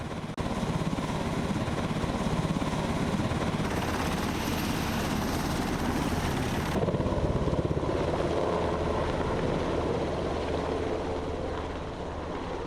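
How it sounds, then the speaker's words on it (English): An Army National Guard UH-60 Black Hawk utility helicopter on a campus makes a loud, continuous rotor and turbine roar with rapid blade thumping, close by and steady throughout. "It's a Black Hawk like the bird. It's a UH-60 model. It's utility helicopters."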